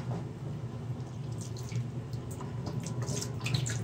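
Chicken being washed under a running kitchen tap with lemon juice, a steady close splashing stream of water filling a sink, with light spattering and drips throughout, no voices.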